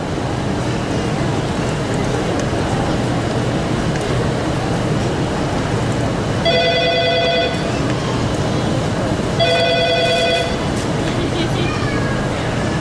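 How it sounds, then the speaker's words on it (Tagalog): A telephone rings twice in bursts of trilling electronic tones, clear and fairly close, over a steady background rumble with voices talking. "O, ayun, ang telepono"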